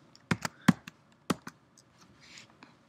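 Keystrokes typing Java code on a computer keyboard, a handful of sharp close clicks in uneven bursts followed by softer scattered taps, with no talking.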